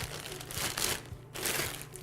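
A plastic protective bag crinkles and rustles while a device is unpacked, close and steady with brief pauses between bursts of crackling.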